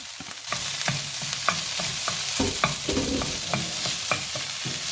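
Meat tipped into a pan of cooked potatoes, carrots and onions, followed by repeated scraping stirs and a soft sizzle; a close, rhythmic series of utensil strokes against the pan.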